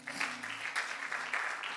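Worshippers at a church service applaud for the Lord, rhythmic clapping in steady bursts heard at a moderate distance, fairly quiet, with a low hum underneath.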